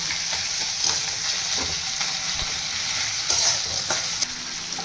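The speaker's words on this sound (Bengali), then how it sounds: "টমেটোর ওপরে কাঁচা লঙ্কাগুলো দিয়ে দেবো, দিয়ে একটু ভাজবো" Tomatoes, grated ginger and green chillies frying in a pan for sambar dal, a bright continuous sizzle close by with occasional light stirring clicks.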